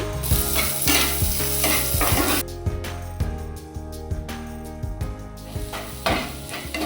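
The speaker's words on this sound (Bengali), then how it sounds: "১ চা চামচ গোটা জিরা, ১ চা চামচ মৌরি, একটু ভাজা ভাজা করে পেঁয়াজ কুচি ২ চামচ, একটু নেড়ে নিয়ে" Whole cumin, fennel seeds and chopped onion stir-fry in a hot pan for pea and cheese balls, a loud, dense sizzle punctuated by a rhythmic scrape of the spatula. No voices.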